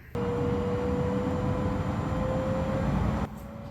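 Jet engines on an airliner spool up in a flight simulator game, a steady loud roar with a rising whine that runs for about three seconds, then drops abruptly to a lower hum.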